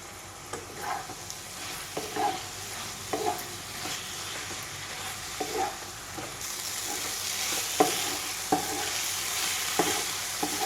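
Two kinds of leafy greens, red amaranth and data shak, stir-fry with green chilli in a pan, a low continuous sizzle punctuated by regular scraping stirs every second or so, close-up and without voices.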